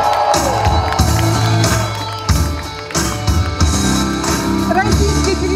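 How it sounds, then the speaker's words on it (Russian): Audience applause mixed with cheers and whoops at an award ceremony for a fireworks festival, a loud steady crowd ovation with music-like tones underneath, sustained throughout. "ваши аплодисменты"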